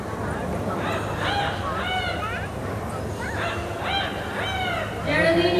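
An Amazon parrot at Bird Paradise in Singapore imitating a rooster crow gives a string of loud, stretched, honking calls in several bursts, with a final louder call near the end.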